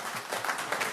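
An audience claps at a county board of supervisors meeting, producing a brief burst of dense, even applause from many hands in the room.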